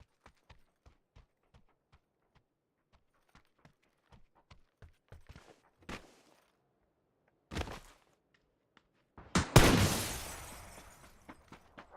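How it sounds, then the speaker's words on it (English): Footsteps in the PUBG video game, a steady run of short, light taps repeating across the scene, later joined by a few heavier thuds and a loud crashing burst near the end. "many footsteps, I just can't hear where they're coming from."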